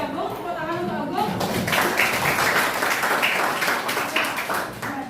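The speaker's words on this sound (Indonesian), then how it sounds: "Tepuk tangan untuk Agung." A classroom of students claps for a classmate after he shares his opinion, brisk group clapping that starts partway in and continues steadily, with a voice talking before it.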